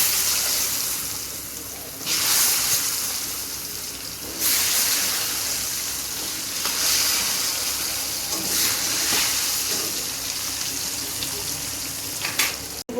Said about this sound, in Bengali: এখন আমি আলুগুলো ফ্রাই করে নেব।